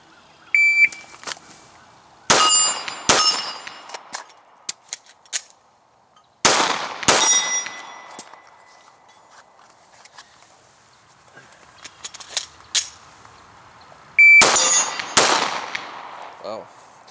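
A shot timer beeps, then loud handgun shots ring out in several quick bursts separated by pauses during a practice competition stage with reloads, sharp cracks with echoing tails, and a second beep later before the final volley.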